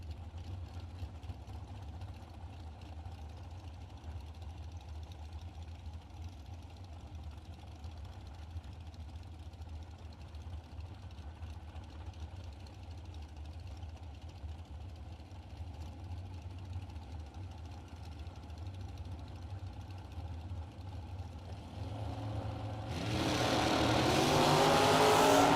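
Drag race cars idle with a low steady rumble at a distance for a long stretch, then one erupts into a loud roaring launch down the track at the very end.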